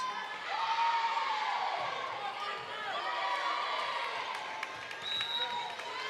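Indoor crowd at a high school volleyball match cheers and whoops steadily, a dense wash of voices and shouts holding near and loud throughout with bright whistling yells cutting through.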